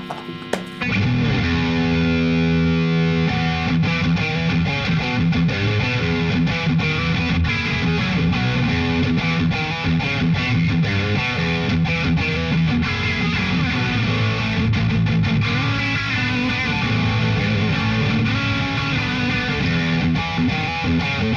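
An electric guitar plays continuously through a Friedman Small Box overdrive pedal, producing a thick, gainy distorted tone that stays loud and sustained for over twenty seconds with no talking.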